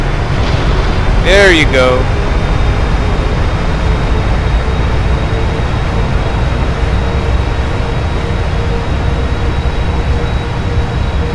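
Thrust reversers on an Air Canada Boeing 777-200LR in the Prepar3d flight simulator roar as a steady, loud broadband rush for the whole stretch, with a brief spoken phrase heard early on.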